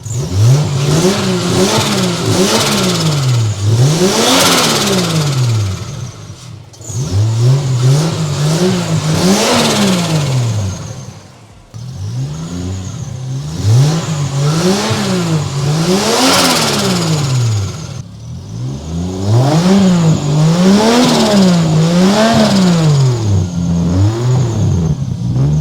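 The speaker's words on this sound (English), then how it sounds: "It makes turbo noises." A Toyota Supra Mk4 with a turbocharged 2JZ engine revs repeatedly in rising and falling bursts, loud and close, with turbo whoosh over the engine roar and brief pauses between pulls.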